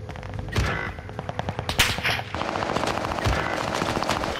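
Rapid gunfire bursts from a Call of Duty Warzone match, close and loud, with repeated automatic shots in quick rhythm and a few sharper single reports throughout.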